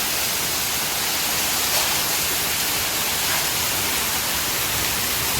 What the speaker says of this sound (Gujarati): અહીંયા અમારે ત્યાં વરસાદ બરાબરનો ધોધમાર પડી રહ્યો છે